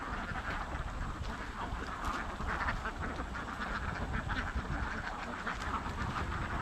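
A flock of ducks on a Kerala waterway quacks continuously and densely throughout, a steady chorus of many birds with no speech.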